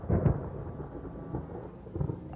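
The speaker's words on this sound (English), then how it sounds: "Paimon hears thunder!" Thunder in the video game Genshin Impact, a brief low rumble with soft rain-like hiss, moderately loud and alone.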